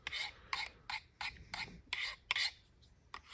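Quiet, rhythmic rasping strokes, about eight in a row, come from lightly honing the bevel edge of a Utica USA knife, each pass a short scraping swipe.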